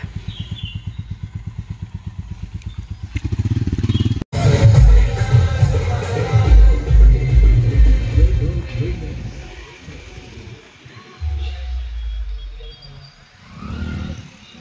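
A Royal Enfield Bullet motorcycle engine thumps in a steady low rhythm, then grows louder and rougher as it rides off, with voices talking over it.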